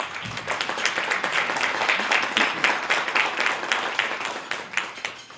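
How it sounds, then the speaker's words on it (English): An audience at a visitor industry candidates forum in Fairbanks, Alaska gives a steady round of applause, many hands clapping at moderate distance for several seconds, fairly even throughout. "Round of applause to start with to give them encouragement."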